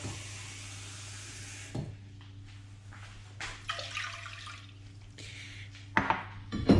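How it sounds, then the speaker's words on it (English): Cold water runs in a steady rush at first, then pours and splashes into a cooking pot holding a small cup of rice, with a few scattered clinks and sloshes of the pot. "I add twice the amount of cold water"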